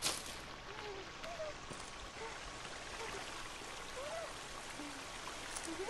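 Stream water in The Forest game: a steady, faint trickling flow with light babbling beneath scattered bird chirps, continuous throughout.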